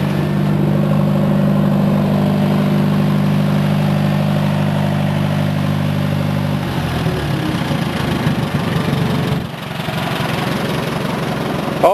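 Small engine running steadily at speed, then dropping to a rougher, uneven idle partway through, loud and close with no talk.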